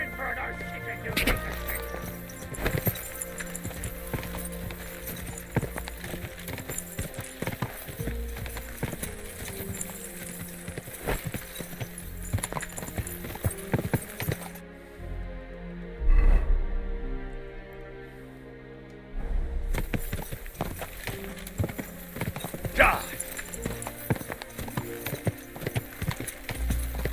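Horse hooves clip-clop steadily in Kingdom Come: Deliverance II, a continuous rhythmic trot under game music and ambience, with a brief lull midway before the hoofbeats resume.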